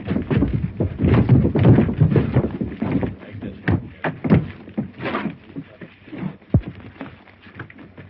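Horses clop over ground in an old western, an irregular patter of hoofbeats that is loud early and thins out later, with people talking over it.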